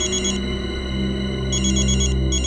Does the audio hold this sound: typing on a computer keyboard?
no